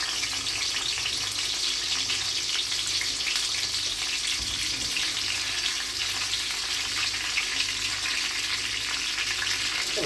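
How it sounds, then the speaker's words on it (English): Peppers fry and soften in a pan with a constant loud, hissing sizzle close by, steady throughout with no talking. "I'm just quickly going to soften up these peppers"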